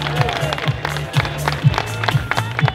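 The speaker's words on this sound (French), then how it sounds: "merci d'applaudir Stein Vandenberg" A crowd at the 2019 Paris-Roubaix team presentation applauds a cyclist's introduction, with steady rhythmic claps and thumps about every half second over a general crowd murmur.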